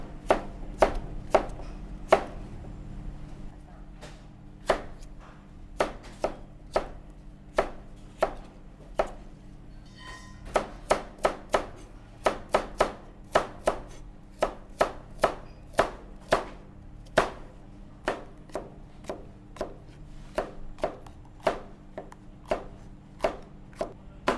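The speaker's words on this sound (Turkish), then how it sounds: "İlk önce sebzelerimizi doğruyoruz." A knife chops vegetables for oven-baked sea bass into pieces about the size of mushrooms or cherry tomatoes, with dozens of crisp, evenly paced strikes on a board throughout, close and clear with no voices.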